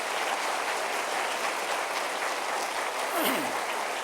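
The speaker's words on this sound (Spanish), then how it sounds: "Dale un aplauso al Señor." A church congregation at a Spanish-language sermon claps for the Lord, a continuous even wash of applause with a short sweeping sound near the end.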